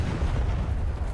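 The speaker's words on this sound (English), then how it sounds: "You have your machine guns tied to your main gun." Tank cannon and coaxial machine guns firing together on a T-34-85 in War Thunder, a dense, sustained low rumble of gunfire with no clear gaps, alone without talk.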